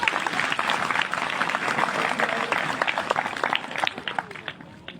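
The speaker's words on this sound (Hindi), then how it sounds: "एक साथ जोरदार तालियां बजाइए आप लोग।" Loud, dense crowd applause from a large gathering at a martyrdom commemoration in Jhitarra, Kewlari, Seoni, steady clapping throughout with a little crowd noise mixed in.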